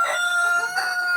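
Backyard chicken giving a loud, close crowing call in two bursts with clucking tones, alone without talk.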